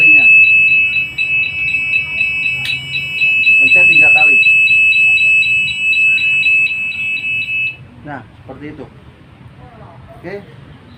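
A Dräger PSS 7000 SCBA distress alarm sounds a loud, rapid, even train of high beeps for about eight seconds, then stops, with an instructor speaking over and after it.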